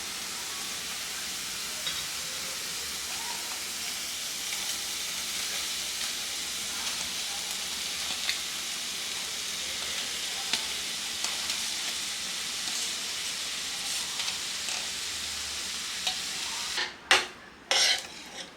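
Rice tipped into a hot pan and stirred for Karnataka-style lemon rice (chitranna), a steady soft sizzle running throughout, with a few sharp clanks of the spatula against the pan near the end.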